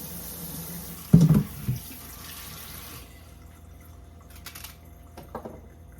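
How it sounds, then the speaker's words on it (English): Plantains rinsed under a running kitchen tap, a steady rush of water with a louder splash and clatter early on before the flow thins to a quieter trickle. "Let's wash and fry the plantain. You wash your plantains before you peel"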